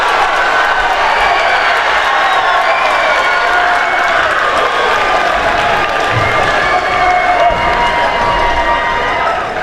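A high school wrestling crowd in a gym roars and applauds after a last-second pin, a loud sustained wall of cheering, clapping and shouting that carries on for several seconds.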